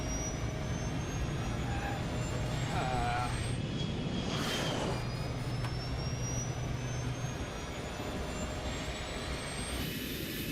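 A passenger jet rolls down a runway after landing with its thrust reverser engaged, a steady, loud engine roar with a faint chirping tone, while a voice speaks briefly in the middle.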